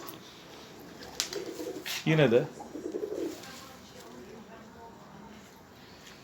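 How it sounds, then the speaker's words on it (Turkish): A snow-white pigeon-like bird coos once in a brief, low burst at close range, set against a quiet background, while a person speaks softly nearby. "Güzel bir tane kar gibi beyaz bir kuş tutmuş."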